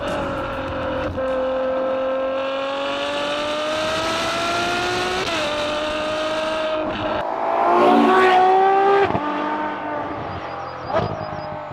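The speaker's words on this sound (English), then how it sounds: "If, like myself, you're a fan of a naturally aspirated V12 Symphony, please fill your boots" A Ferrari F12 Berlinetta's naturally aspirated V12 revs and accelerates through several rising gear pulls with shifts in between, loud and close, swelling to a peak before settling back down.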